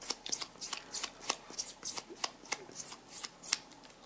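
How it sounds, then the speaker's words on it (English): A special eraser rubs leftover glue off a plastic glue spreader in quick repeated strokes, a close, dry scratchy scrubbing with a steady back-and-forth rhythm and no talking. "You can remove any residue glue with this type of special eraser."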